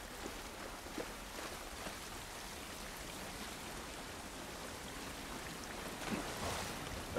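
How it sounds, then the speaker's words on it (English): Steady rain hissing in a game world of The Last of Us Part I, faint and even with soft patter and no voices. "This rain ain't gonna do us any good."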